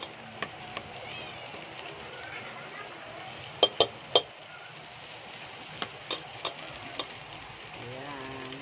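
Garlic frying in oil in a pan, a low steady sizzle with a few sharp clinks of a utensil against the pan and a voice talking over it.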